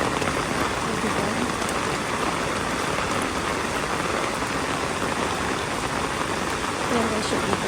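Heavy rain pours down in Singapore, a dense, steady hiss that stays loud and unbroken throughout.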